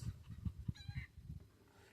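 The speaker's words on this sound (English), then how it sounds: "I don't know if you can hear the chickens." Faint clucking and honking calls of chickens in a coop off in the distance, soft and intermittent against a quiet outdoor background.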